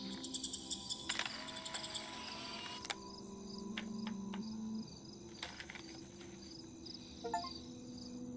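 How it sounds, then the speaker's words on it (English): Crickets chirp steadily in the background of Life is Strange, a high, continuous trill layered with sharp clicks, tones and small game sound effects. "Why am I hearing crickets?"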